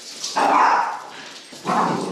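Dogs bark and yip in two short bursts, each close and fairly loud, separated by a brief quieter pause, with no one talking.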